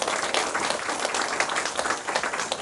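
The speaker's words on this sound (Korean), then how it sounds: "네, 힘차게 박수 한번 보내주시죠." An audience at a Buddhist studies society summer workshop breaks into steady, vigorous applause, many hands clapping together at close range with no pause for the whole stretch.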